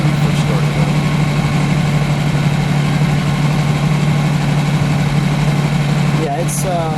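A 1965 Lamborghini 350 GT V12 idles just after start-up, running a little unevenly on its carburetors, with a loud steady low drone and a brief clatter near the end.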